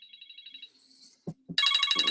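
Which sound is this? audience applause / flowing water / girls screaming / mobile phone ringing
mobile phone ringing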